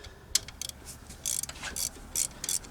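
A hand ratchet loosens a 14 millimeter bolt on a 2004 Toyota Avalon during alternator replacement, clicking in quick bursts of pawl ticks with short pauses between strokes, close and moderately loud.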